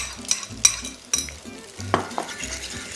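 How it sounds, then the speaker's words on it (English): Eggs frying in browned butter are pushed around a pan, sharp scrapes and taps of a utensil against metal over a soft, steady sizzle, close and without speech. "And at this point we just keep moving the eggs around"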